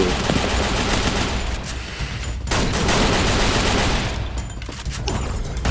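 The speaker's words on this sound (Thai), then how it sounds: "ข้างนอกเขามายิงกู" Rapid gunfire from enemies in the mobile shooter Free Fire, loud dense automatic bursts overlapping continuously with only brief dips, no talk.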